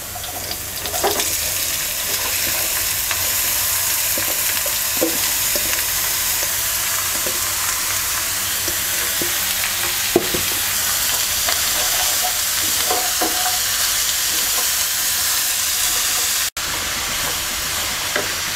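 Chopped young ash gourd fries with onions in a pan, a continuous close sizzle broken by scraping stirs and clinks, with a short cut near the end and no voices.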